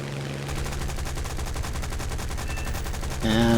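Guns of a Spitfire Mk IIb fire in War Thunder realistic air combat: a rapid, evenly pulsed stream of shots over a low engine drone, ending in a louder burst.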